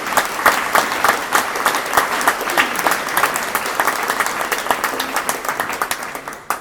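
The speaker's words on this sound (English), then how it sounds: "Can we have a round of applause please to the prescribing team and the Hill?" Full audience applause at an anniversary conference, many hands clapping in a dense, steady wash that stays loud, then tapers slightly at the end.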